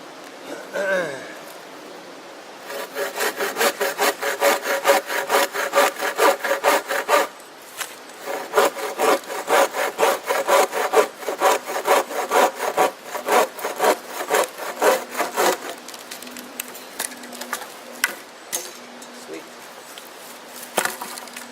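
Wooden poles for a tarp shelter frame are sawn to equal length outdoors, a close, rhythmic back-and-forth rasp of strokes in long runs with brief pauses, and a voice briefly at the start.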